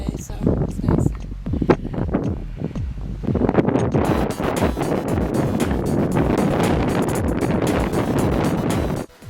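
Wind gusting across the open summit of the Beehive in Acadia National Park, a broad steady rush buffeting the microphone, with people talking over it in the first few seconds.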